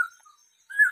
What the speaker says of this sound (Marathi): इथं पक्ष्यांचा आवाज ओरिजिनल